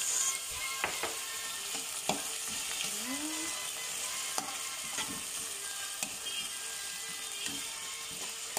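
Chicken mix frying in oil with golden-browned garlic for fried rice, a steady close sizzle with scraping stirs and spatula clacks throughout, no voices.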